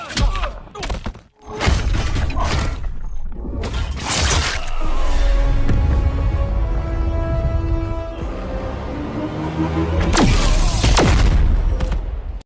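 Cannon explosions and booming blasts from Brainiac's super move in the fighting game Injustice 2: sharp bursts and thuds, a rumbling sustained roar through the middle, then a final loud crash, with game music tones underneath.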